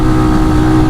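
A police motorcycle on a Jamaican street accelerates hard through a corner, producing a loud, steady engine roar close by for a brief moment with no voices.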